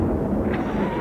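Cannon firing sound effect with a deep, rumbling low boom that fills the moment and swells briefly before settling into a sustained roar, loud and close.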